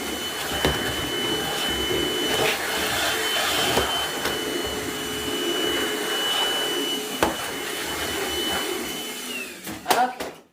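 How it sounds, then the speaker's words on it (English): Vacuum cleaner sucking up craft glitter while a large bow tree topper is made, a steady whining drone with rattling pickup noise throughout, switching off near the end, with faint talk in the background. "Let me vacuum up some of my glitter"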